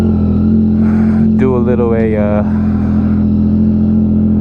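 A Yamaha XSR900 motorcycle engine drones steadily throughout a night ride, loud and close, with a voice speaking briefly over it.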